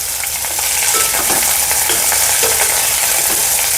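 Chopped large onion frying in hot oil in a pan for a quick vegetable-free kurma, a steady loud broadband sizzle with occasional stirring scrapes, close and continuous with no talk.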